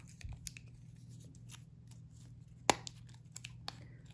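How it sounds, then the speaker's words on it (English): Vintage rhinestone earrings being pulled off a cardboard display card, a few sharp tearing and scraping snaps scattered over a quiet room hum, one louder rip near the middle. "Just want to pull these off the card for a moment."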